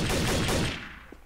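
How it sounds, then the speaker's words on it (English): Gunfire during a Trouble in Terrorist Town round in a Halo 2-themed game mode: a quick loud rattle of shots that cuts off and fades, with a small isolated sound near the end. "I hear death and shots"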